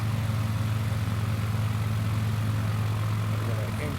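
In Microsoft Flight Simulator 2020, a light propeller aircraft nears a landing strip with its engine droning steady and loud, a constant low hum that never changes.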